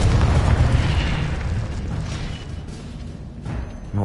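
A Confringo spell in a video game bursts into a heavy, booming explosion at the start, its rumble decaying over a few seconds with a smaller pop near the end.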